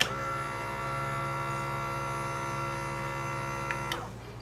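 A 12VDC right angle leadscrew motor with a brass flange nut hums and whines steadily, its tone unbroken for about four seconds before it stops abruptly.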